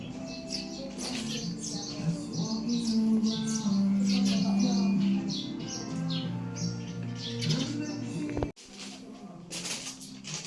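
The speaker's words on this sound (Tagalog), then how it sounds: "Ibon dagat to eh." Chirping from a seabird at a seaside spot in La Union, heard as repeated quick high tweets over steady background noise, with people talking nearby and a sharp knock near the end.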